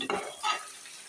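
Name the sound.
stirring ground coconut masala into chicken curry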